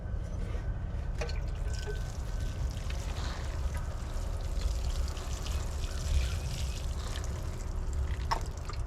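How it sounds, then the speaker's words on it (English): Seedlings in a starter kit being watered, making a soft, steady trickle and pour of water that runs quietly for several seconds with no talking. "we're going to water them one more time."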